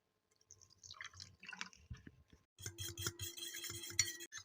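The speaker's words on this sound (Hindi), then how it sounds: "साथ ही इसके अंदर हम पानी ऐड करेंगे, बिल्कुल थोड़ा सा।" A small splash of water poured into a bowl holding a cracked egg, heard as soft close drips and trickles followed by a brief thin pour with light clinks against the bowl, quiet and with no voices.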